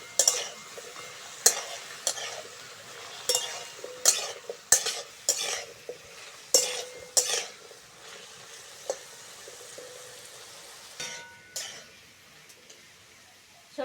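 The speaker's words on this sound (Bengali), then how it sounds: "সবজিগুলো ভালো করে ভেজে নেব।" Vegetables frying in a pan for a vegetable curry: about a dozen sharp spatula scrapes and stirring strokes at uneven intervals break over a quiet background sizzle.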